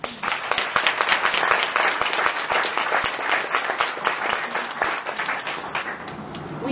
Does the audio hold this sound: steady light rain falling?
no